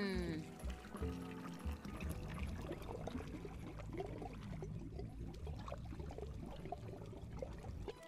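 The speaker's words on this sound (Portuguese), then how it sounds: "Agora que eu tô vendo que a água encheu aqui, ó. E eu ouvi a água passando." Water flowing and filling up in the video game Samorost 3, heard as a steady pouring, trickling rush that continues for several seconds at moderate loudness.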